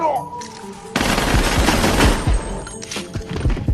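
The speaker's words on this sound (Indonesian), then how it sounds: "Melihat posisi Noriko terancam, Suya menembak Kitano." Pistol gunfire in a scene from the Battle Royale film: a sudden loud burst of shots with echoing reverberation after a quieter opening, ringing on until the end.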